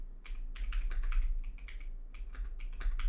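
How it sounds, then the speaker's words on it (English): Fast one-handed typing on a computer keyboard, a steady close patter of key clicks in quick bursts with brief pauses, no voices. "Why am I better at typing with one hand than two?"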